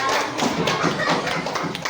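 A classroom full of people claps together in a dense, steady round of applause, close and fairly loud throughout.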